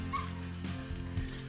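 Dog on an off-grid homestead making short yips and whimpering sounds at moderate distance, repeated in quick succession over a steady background.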